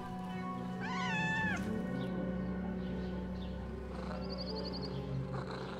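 A cat in the Assassin's Creed Mirage video game gives one clear, close meow over steady ambient game sound, followed by a softer faint call.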